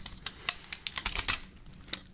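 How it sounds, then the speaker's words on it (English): Stickers being peeled off a new Samsung Galaxy S4 Zoom during an unboxing, heard as a series of short, sharp crackling rips and taps, fairly close and without talk. "So let's pull off all these stickers."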